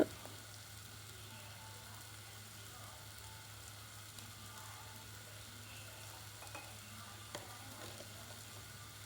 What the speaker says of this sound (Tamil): நம்ம கிரைண்ட் பண்ண பேஸ்ட்டை சேர்த்து நல்லா வதக்கி விட்டுருங்க